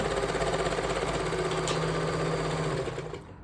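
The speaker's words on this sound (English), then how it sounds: "So now that I've serged on my elastic to all of my edges, including my leg holes" A serger runs steadily and close by as it stitches elastic onto the raw fabric edges of a tie-front leotard, its motor buzzing evenly with a rapid mechanical chatter before tapering off near the end.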